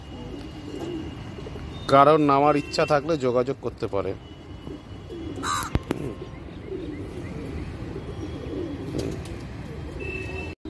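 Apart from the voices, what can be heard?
pigeon cooing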